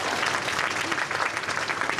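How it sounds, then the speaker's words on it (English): An audience at a talk claps together in a dense, steady round of applause, close and moderately loud throughout. "Okay, clap nicely, I'm going to clap."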